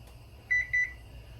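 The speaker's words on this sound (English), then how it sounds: "I'm just going to set the timer." A kitchen timer being set while cooking, giving two short electronic beeps in quick succession, clear and close, against a quiet room hum with no talk.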